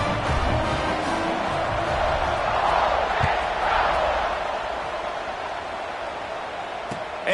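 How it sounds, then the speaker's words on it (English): A stadium crowd at a Gators college football game buzzes steadily after a score, a dense, loud, continuous roar with a slight swell partway through and no distinct talk above it. "this crowd is buzzing after that last score"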